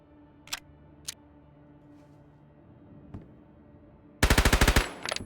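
Loud burst of automatic gunfire from the video game Road to Vostok, a rapid string of about a dozen shots near the end, after a few isolated sharp clicks and single shots against quiet background.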